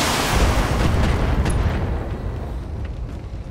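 An enemy SRM carrier vehicle blowing up in BattleTech, a loud, deep rumbling blast that swells at once and slowly fades into a low roar.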